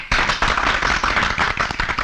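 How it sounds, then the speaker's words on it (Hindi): A party crowd bursts into applause, a dense, loud run of close hand claps that starts abruptly and keeps going without a break. "तालियां!"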